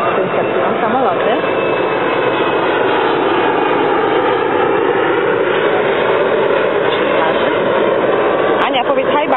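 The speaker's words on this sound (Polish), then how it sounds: "Tutaj startują samoloty." Loud, continuous roar of jet engines as airplanes take off, dominating the scene, a steady broadband rumble that barely changes throughout.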